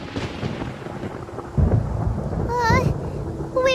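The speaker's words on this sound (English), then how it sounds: "Paimon hears thunder!" Thunder rumbles through a stormy scene in the video game Genshin Impact, with low booming swells and steady background noise, while high tonal game chimes ring out near the end.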